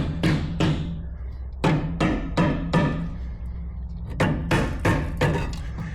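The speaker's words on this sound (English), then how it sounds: "hit it with a rubber mallet" A rubber mallet taps a rear brake part on a 2005-2012 Acura RL, giving about a dozen dull, fairly loud knocks in irregular clusters, close up.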